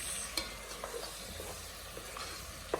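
Momone, a fermented fish, frying in oil for egusi stew, giving a faint, steady sizzle with soft stirring scrapes and an occasional light clink of utensil on pot.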